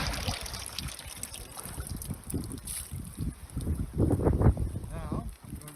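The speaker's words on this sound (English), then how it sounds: "Use this sample water to rinse my filter." Sample water from a near-shore site is poured and swirled to rinse a filter, a steady trickle and splash heard close up under a person speaking.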